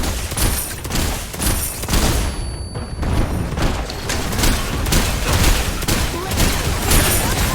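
Dense, continuous combat noise from the video game Paragon: The Overprime, with rapid booming blasts and crackling impacts that include a bomb explosion. The noise is loud, runs almost without a break and drops out for a brief moment partway through.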